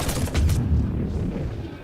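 A rapid burst of booming weapon fire aimed at Banshees in Mass Effect 3, heavy and loud in the first half second, followed by rumbling low echoes and debris-like crackle as it tails off.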